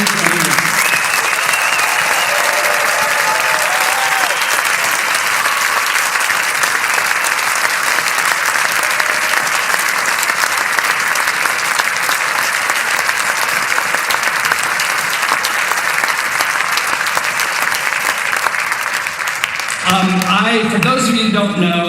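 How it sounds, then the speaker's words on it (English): Sustained loud applause from a large audience at the 2021 Iowa Rock and Roll Hall of Fame awards ceremony honoring the Iowa Rock and Roll Music Association class, steady throughout before a voice and music break in near the end. "let's have one big round of applause for the entire Iowa Rock and Roll Music Association class of 2021"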